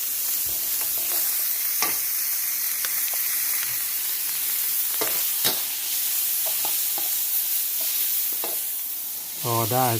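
Minced pork sizzles with garlic in a pan while a utensil stirs and scrapes it in scattered strokes, a constant frying hiss underneath and a short sharp rattle near the end.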